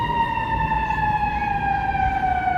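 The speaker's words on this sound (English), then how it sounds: "the ambulance is pulling out here" An ambulance siren sounds loud and sustained as the vehicle pulls out at Michigan and Wacker Drive in Chicago, a steady wailing tone slowly falling in pitch over city street noise.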